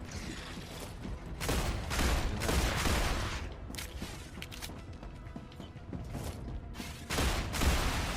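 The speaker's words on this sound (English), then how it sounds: "Changing mags." Magazine changes during a firefight in the video game StarRupture: clicking, ratcheting mechanical reload sounds mixed with bursts of gunfire, moderately loud and irregular throughout.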